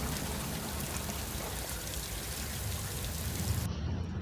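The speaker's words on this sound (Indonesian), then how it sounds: "hujan. Ya, yaitu terjadi saat titik-titik air turun dari langit" Steady rain falls in a continuous broadband hiss, fairly loud and even throughout, with no voices over it.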